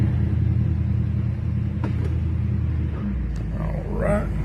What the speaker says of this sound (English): Still blows me away how easy this old car cranks up.